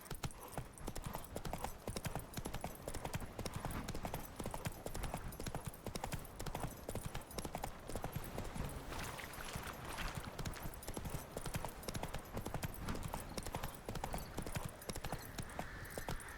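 Horse hooves gallop in The Witcher 3, a fast, dense clip-clop drumming steadily and fairly faint throughout, with no speech.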